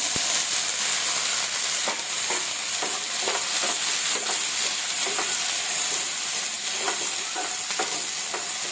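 Chopped onion and tomato sautéing in a pan for urad dal chutney without coconut, a constant sizzle broken by repeated stirring scrapes and spoon clicks, close up, with nobody speaking.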